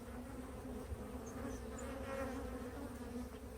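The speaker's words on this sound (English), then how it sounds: "since there's so many bees in here, I will put them in a new box." A honey bee swarm hums inside a full hive box, a dense, even buzz that holds steady throughout with a few individual bees passing near.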